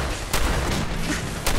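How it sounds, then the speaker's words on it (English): Enemy gunfire in Fallout 4, sharp loud cracks and booming shots over a dense rumbling battle din, with a couple of distinct bangs standing out. "Man, I'm getting shot from everywhere."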